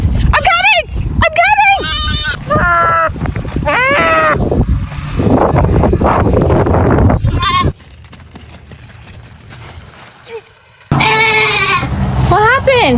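Goats on a farm bleating loudly and repeatedly in wavering cries, mixed with people talking and commotion, with a short quieter stretch before the bleats return.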